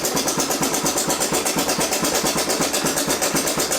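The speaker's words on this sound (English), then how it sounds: "Well, she wants to idle now." A 1987 Honda TRX250 ATV engine idles steadily close by, a loud, even chugging with a fast regular pulse running the whole time and no talk over it.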